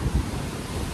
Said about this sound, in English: the wind's going crazy right now